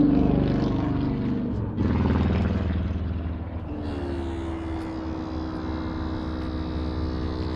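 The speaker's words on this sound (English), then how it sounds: "One of the cooler features of this bike, it's got a air shock," An air shock compressor on a 2008 Suzuki Hayabusa motorcycle runs with a loud, steady droning whine close by, shifting pitch partway through as the ride height adjusts.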